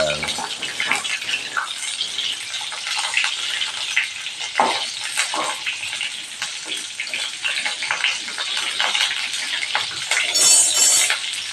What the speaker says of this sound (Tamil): அதனால தான் எண்ணெயில் வதக்குறோம்.